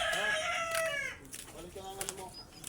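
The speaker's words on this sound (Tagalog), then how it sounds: "Yung manok namin namamalo" A rooster crowing close by in one loud, drawn-out call, followed by fainter clucking and wing flapping while people talk.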